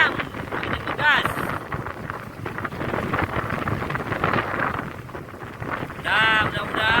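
Strong sea wind on a bagan fishing platform off Tanjung Kait. It blows as a continuous loud, buffeting rumble, with brief voices surfacing at a couple of moments.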